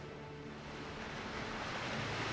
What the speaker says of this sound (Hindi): लहरें आ रही हैं, पत्थरों से टकरा रही हैं, मगर वो फिर से आती हैं।